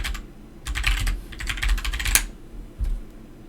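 Rapid bursts of clattering keystrokes on a computer keyboard, loud and close, coming in several quick flurries separated by short pauses.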